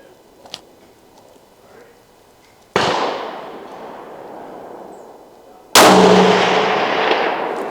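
Two sharp, loud rifle shots from a Ruger American Ranch in .300 Blackout crack a few seconds apart outdoors, each followed by a long fading echo.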